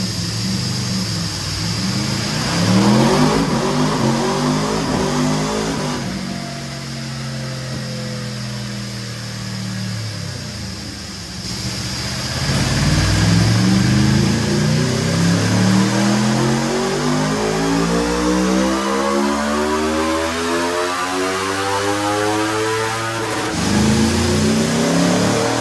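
A stock 2026 Aprilia RSV4 Factory 1100 motorcycle on a dyno, engine loud and close as it revs through repeated rising sweeps, each climbing in pitch before dropping back, with brief lulls between pulls.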